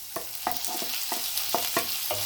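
Chopped tomato frying with onions in a pan for chickpea curry sizzles steadily while a spoon stirs it in regular scraping strokes, close and moderately loud, with no voices.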